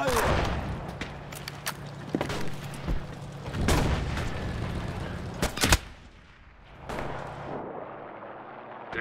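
Gunfire in the World War II shooter game Enlisted rings out as repeated sharp shots and bursts spread over several seconds, some close and loud, with a voice speaking between them.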